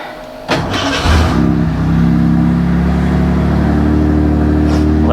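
A modified car engine fires up and settles into a steady, loud idle with a deep rumble, warming up close by before a test drive.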